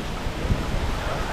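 Strong gusts of Typhoon Karding buffet outdoors, a loud, continuous rumbling roar with heavy low-end wind noise over the brief moment.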